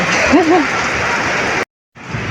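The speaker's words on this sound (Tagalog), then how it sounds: "ayan lakas ng ulan guys hindi na ako nag mic kasi para marinig niyo yung ulan" Heavy rain from a typhoon roars steadily and loudly while a voice briefly sounds early on, then the sound cuts out abruptly for a moment before the downpour resumes.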